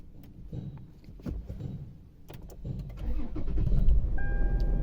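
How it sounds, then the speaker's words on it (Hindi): A 2014 Toyota Prado with an air-conditioning cooling fault starting up: a few faint clicks and key rattles, a cranking starter, then the engine catching and settling into a loud, steady idle with a brief warning chime. "तो सबसे पहले मैं गाड़ी स्टार्ट करता हूँ।"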